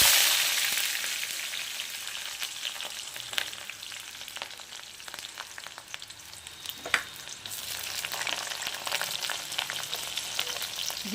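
Vegetables frying in a pan over low heat as beetroot is added, a continuous sizzle with scattered crackles and stirring scrapes, close up, fading slightly in the middle then rising again, with no voices.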